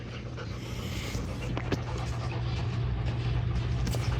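Dogs panting steadily, a continuous breathy rasp close by with faint movement and a low background hum, no speech over it.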